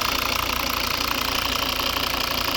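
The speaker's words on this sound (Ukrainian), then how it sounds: "От робота двигуна." A 2011 Volvo V70 2.0 D4 five-cylinder diesel engine idles close by with a steady, loud, rough rumble and even rhythmic knocking throughout.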